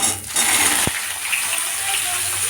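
Cut pumpkin and potato pieces going into hot oil, which bursts into a loud, continuous sizzling hiss with one brief dull thud of the pieces landing.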